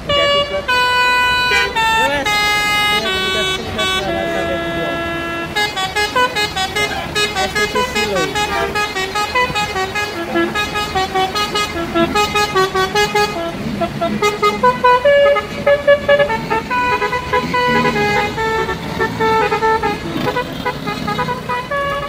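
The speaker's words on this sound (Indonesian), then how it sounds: "Ada bus Sudiro Tunggal Jaya teman-teman." A Sudiro Tunggal Jaya tour bus passes close by, sounding a loud, long musical horn that plays a melody of sustained tones for around twenty seconds over its engine.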